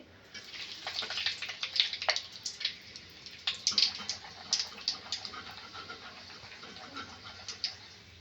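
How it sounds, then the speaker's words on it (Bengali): Peanuts fry in hot oil in a pan for chal bhaja. Close, busy crackling and sputtering pops ride over a soft hiss that continues throughout. "একই রকমভাবে কিছু বাদামও আমি এই ভেজে নিচ্ছি একই রকম"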